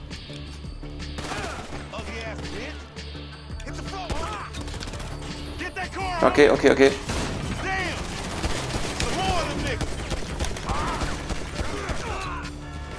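Gunfire in the video game Grand Theft Auto 5, rapid bursts of shots and a louder cluster of blasts midway, mixed with game effects and music while someone talks over the action.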